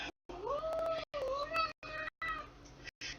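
A patchy calico-like cat gives a run of short meows, several separate cries with gaps between them, close and clear with no talking.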